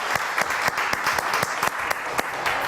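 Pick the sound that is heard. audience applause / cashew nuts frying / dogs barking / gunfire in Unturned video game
audience applause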